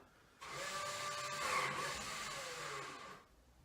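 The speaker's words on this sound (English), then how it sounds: "The automatic trailer control, the ATC, does a system check, which you will be able to hear now." A motorized whirring hum from an Audi's automatic trailer control system check starts abruptly, runs steadily for about three seconds with a slight rise midway, then cuts off; close and fairly quiet, no talking.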